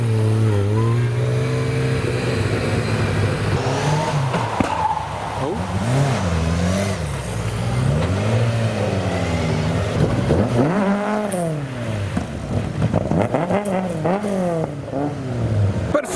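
A road-legal Le Mans race car engine revs and accelerates hard, pitch climbing and falling through repeated gear changes, loud and close throughout with a few faint tire noises.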